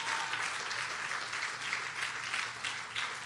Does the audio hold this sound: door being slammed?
no